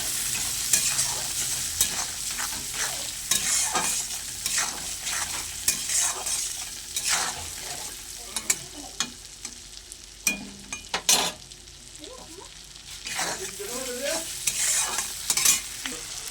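Kashmiri chilli powder, chopped tomato and salt are sautéed together in a pan for a katla fish belly curry, giving a steady close sizzle broken by frequent scraping stirs of a spoon.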